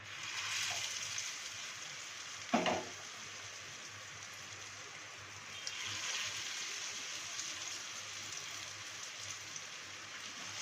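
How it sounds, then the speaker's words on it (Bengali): Continuous crackling sizzle of ash gourd peel pakoras frying in hot oil, with one brief clatter near the start. "তেলটা আমার গরম হয়ে গেছে এরপরে আমি পকোড়াগুলো এক এক করে ভাজবো"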